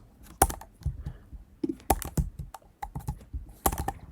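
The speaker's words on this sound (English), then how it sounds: "Oh my god, I can't type." Quick bursts of keystrokes on a computer keyboard, loud and close, with short pauses between clusters of clicks.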